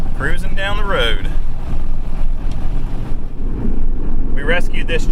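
Steady, loud road and engine rumble from a restored 1988 GMC Sierra pickup cruising along a road, with someone talking over it at the start and again at the end.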